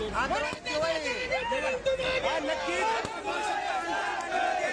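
A large crowd at a Maratha quota victory celebration in Antarwali cheers and chants without pause, loud massed voices rising and falling in rhythmic shouts.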